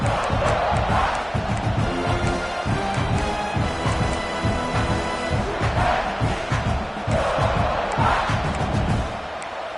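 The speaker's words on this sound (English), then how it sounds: "This crowd bringing the energy and noise early." A loud stadium crowd at a football video game roars and cheers continuously, with swelling surges of noise and scattered thumps throughout.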